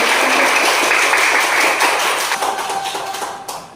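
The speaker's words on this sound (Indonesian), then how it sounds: "Berikan aplaus kepada teman-teman." Students in a primary school classroom give their classmates a round of applause: many hands clapping densely and loudly, then thinning out and fading toward the end.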